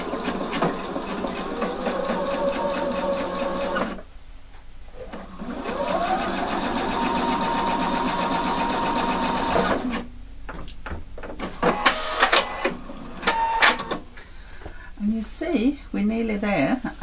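A sewing machine stitches a bust welt pocket in menswear tailoring, running in two steady whirring bursts with a pause between, then stopping as people talk and handle the fabric.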